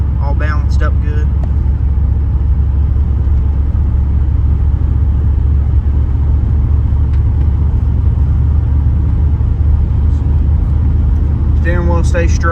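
A 1986 Pontiac Firebird Trans Am drives along with a loud, steady low engine rumble and road roar filling the cabin, while someone talks briefly at the start and end.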